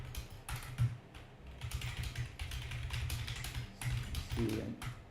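Rapid, uneven clacking of keys on a computer keyboard goes on continuously, close and moderately loud, with no voices.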